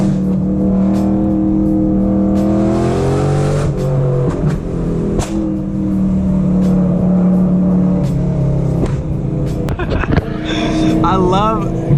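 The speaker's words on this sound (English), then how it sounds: "I love going up here because my car just echoes throughout the whole canyon." A BMW E92 M3 engine drones and revs in a snowy canyon, its low exhaust note rising and falling under nearby talking, with a brief higher whine near the end.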